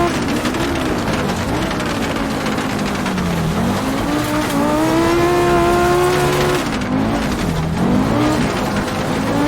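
An Audi Group B rally car in a racing video game howls at high speed, its engine note rising and falling steadily through gear changes, loud and continuous with faint tire noise.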